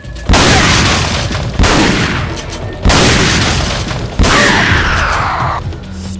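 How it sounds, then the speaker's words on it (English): Heat grenade explosions in the video game Resident Evil 4: four loud, heavy booms spaced about one to one and a half seconds apart, each with a roaring tail, close and alone. "Heat grenade."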